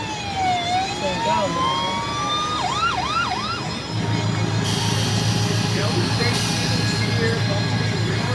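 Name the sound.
police car siren from Tempest police car kiddie ride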